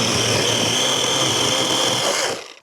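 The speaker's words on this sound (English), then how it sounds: "I'll just go through with the chainsaw nice and easy" A chainsaw cutting wood at a rotten cabin buzzes at a steady high pitch for a couple of seconds, close and loud, then quickly dies away.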